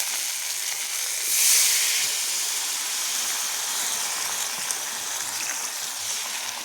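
Water poured into spices frying in hot oil hisses into a loud burst of sizzling, then settles into a steady, close bubbling fry that carries on alone without talk.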